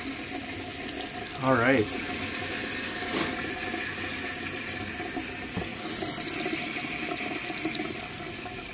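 Cold tap water pours and drains steadily into a sink, a constant close rushing with a brief spoken remark near the start.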